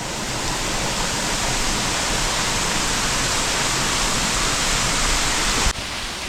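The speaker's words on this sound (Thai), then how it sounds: "คือมีน้ำตกนะครับผมไหลลงมาข้างกุฏิอย่างนี้เลยนะ" A waterfall spills down beside an abandoned forest monk's hut in the mountains: a loud, continuous rushing roar of falling water, close and steady throughout, dropping slightly at the very end.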